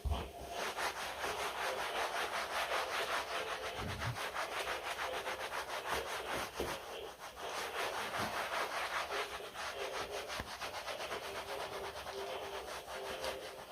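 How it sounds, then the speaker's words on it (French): A clean microfibre cloth is wiped across a delicate engine insulation cover, making continuous close, soft rubbing and brushing strokes in a steady back-and-forth rhythm with no voices. "on vient prendre un chiffon microfibre propre et on vient tout simplement essuyer notre partie"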